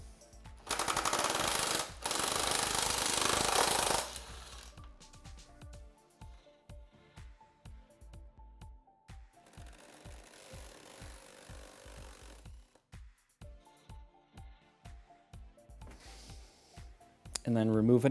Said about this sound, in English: All the battery bolts, I'm gonna use a 22 millimeter socket and remove them.